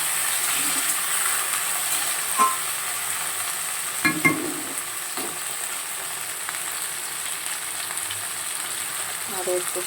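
Taro stolons (kochur loti) stir-fry in a pan with a soft, continuous sizzle and hiss. Occasional light utensil clicks and scrapes break through, and no words are spoken.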